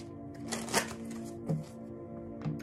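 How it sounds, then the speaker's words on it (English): Tarot cards being shuffled by hand, with soft riffling bursts and a few sharper snaps at intervals, close and quiet. "let me shuffle these first"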